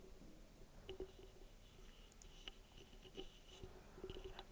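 Pen or pencil scratching on paper while drawing an isometric construction, faint sparse strokes and small taps spaced irregularly against a quiet room hiss, with no talking.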